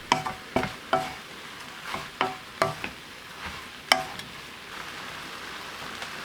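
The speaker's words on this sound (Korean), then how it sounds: "빳빳했던 양배추가 익어갈 때쯤 고춧가루 한 스푼 넣어 섞어줍니다." Cabbage and chili powder stir-fried in a pan for a squid stir-fry: a spatula scrapes and clacks in a quick, uneven series of sharp strokes, with a faint sizzle between them and no talking.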